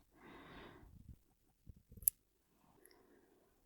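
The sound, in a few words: scissors opening and closing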